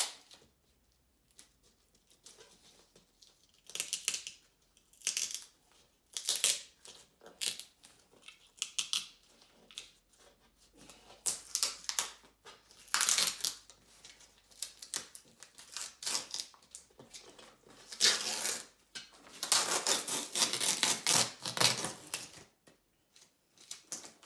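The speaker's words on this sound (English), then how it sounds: "So let's get the peel ply off." Peel ply being pulled off a fiberglass box, irregular bursts of crisp tearing and crinkling that come close and fairly quiet, growing longer and denser toward the end, with short pauses between pulls.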